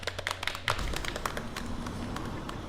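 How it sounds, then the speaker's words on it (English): A small group claps in a quick burst of scattered handclaps during a livestream, the claps thinning into a few sparse, close taps. "Can we all get a round of applause for Kelly?"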